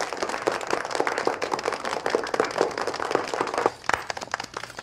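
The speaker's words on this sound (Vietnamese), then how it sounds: "Chúng ta hãy nhiệt liệt vỗ tay quan lên." An audience at a competition stage event breaks into lively applause, dense rapid clapping from many hands, loud and continuous before briefly thinning near the end.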